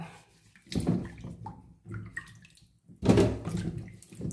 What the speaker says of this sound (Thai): มือเดี้ยงทำอะไรก็ไม่สะดวกเลย ล้างมือเดียว ล้างมือเดียว